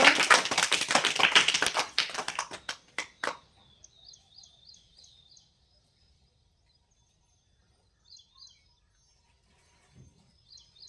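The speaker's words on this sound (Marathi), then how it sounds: "हर्षद टाळ्या वाजव त्याला जोरात" A group of schoolchildren in a classroom clap loudly together in a rapid burst lasting a few seconds. After a few scattered claps, near silence follows, with faint chirps.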